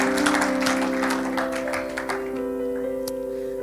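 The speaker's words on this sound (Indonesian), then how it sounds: "Boleh kasih tepuk tangan untuk Tuhan?" A church congregation claps over a sustained musical tone, a brief burst of scattered hand claps that thins out within a few seconds.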